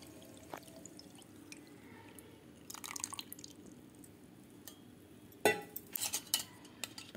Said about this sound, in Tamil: அப்படியே இப்போ நான் இங்கே பக்கத்தில் ஃபில்ட்ரு வச்சுட்டு அதில் நான் வந்து வடிகட்டி எடுத்துக்கிறேன்